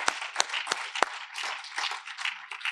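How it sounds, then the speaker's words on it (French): An audience at a corporate awards event applauding the winning company, a short burst of dense clapping with a few sharper individual claps standing out, fairly close, no talk. "On peut les applaudir."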